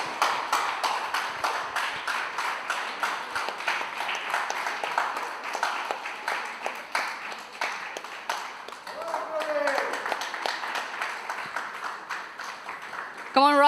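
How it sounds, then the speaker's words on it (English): Audience at a church fest grand finale applauds prize winners, a sustained crowd of clapping hands with some voices mixed in, loud and steady before easing slightly near the end. "Come on, round of applause."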